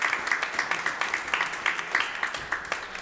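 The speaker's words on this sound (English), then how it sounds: "Let's clap for our children." A church congregation claps in a steady rhythm for children, moderately close, with murmuring voices underneath.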